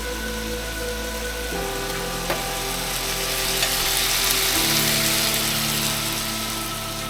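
Fresh deer heart fries in butter with salt and pepper in a frying pan, a steady close sizzle and crackle that swells louder midway through, with no talking.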